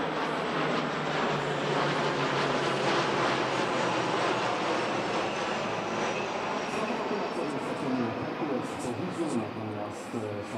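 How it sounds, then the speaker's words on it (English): A C-130E transport leading three C295M transports roars past at the Radom Airshow, a broad loud drone of turboprop engines holding steady before easing slightly, with a voice speaking over it. "Here, one of their 5 C-130Es leads in 3 out of Poland's 16"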